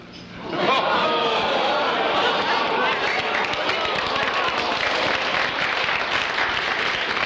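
Audience applause at a live comedy roast honouring Serge Laprade, swelling in under a second into steady, dense clapping that holds loud and even for several seconds.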